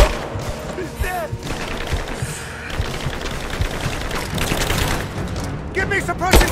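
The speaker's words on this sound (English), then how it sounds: "Laying down, covering fire!" Bursts of covering gunfire rattle in the video game Rise of the Tomb Raider, rapid automatic volleys mixed with heavier booms and thuds, loud and close, with shouting voices in the fight.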